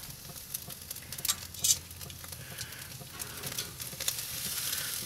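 Ribeye steak sizzling on a Kamado Big Joe grill under a closed lid, a steady moderate crackle with brief pops and faint patter throughout, no voices.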